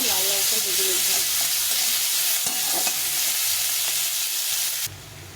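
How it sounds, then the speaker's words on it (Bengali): Onions frying in a pan until reddish brown for a fish curry: a loud, continuous close-up sizzle with faint stirring, easing off slightly near the end. "পেঁয়াজটাকে ভালো করে লাল লাল করে ভেজে নিতে হবে।"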